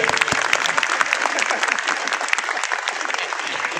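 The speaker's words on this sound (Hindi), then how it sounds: "अरे तालियां तो बचाओ बच्चे के लिए" A crowd at a Gayatri Shaktipeeth community gathering applauds a child, giving steady, dense clapping for several seconds at close range, with voices faintly mixed in.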